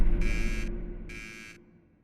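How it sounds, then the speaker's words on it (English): A proximity alarm buzzer sounds twice in a spacecraft-style audio drama. Two short, sharp electronic buzzes of equal length ring out over a low steady hum, then the hum fades away. "The proximity alarm."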